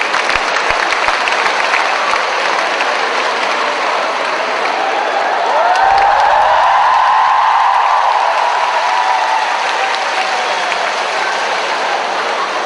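Audience applause at the final round of the Prime Minister's Cup 2011 debate competition as a ninth judge is welcomed, a loud, dense, steady clapping that swells briefly in the middle and carries on throughout.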